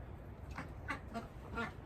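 Several ducks quack in short, faint calls at a distance, a few scattered quacks over quiet outdoor background noise.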